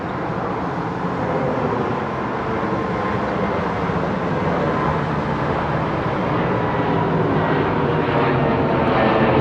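An airliner takes off from runway 09R at London Heathrow Airport. Its jet engines give a loud, steady, broadband roar that holds at full strength throughout, with no talking.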